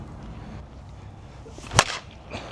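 A Monsta Lazer MX slowpitch softball bat strikes a pitched ball with one sharp, loud crack, close by, amid quiet outdoor background.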